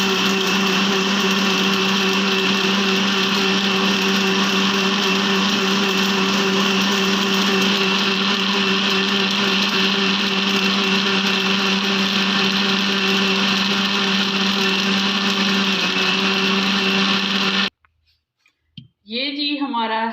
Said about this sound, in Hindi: ये जी हमारा हेल्दी जूस तैयार हो चुका है, बहुत अच्छे तरीके से ब्लेंड हो चुके हैं।